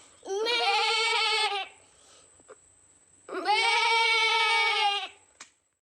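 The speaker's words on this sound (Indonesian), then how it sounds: "Suara kambing." A goat bleats twice, two long wavering calls close by, separated by a short pause.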